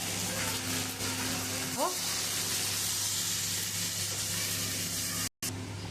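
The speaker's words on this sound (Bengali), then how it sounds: "আমি এখন গাঁটি কচুটা আর আলুটা লাল লাল করে ভেজে নেব।" Gathi kochu (taro) and potatoes frying in a pan with turmeric, cumin, chili and salt, a steady close sizzle that runs nonstop, with a brief clatter near the middle.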